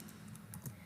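Quick keystrokes on a computer keyboard while Python code is typed, a brief close burst of soft clicks with no voice.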